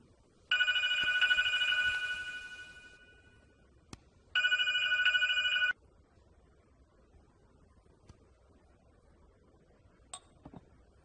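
A telephone rings in two electronic bursts, the first about two seconds and the second about one, with a quiet gap between and faint clicks afterward.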